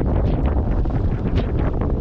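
Strong wind roars and buffets the microphone continuously, a loud, rumbling gusty blast with no voices.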